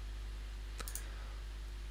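A computer mouse clicks a few times in quick succession while walls are selected in Revit modelling software, faint, close, sharp clicks over a steady background hum.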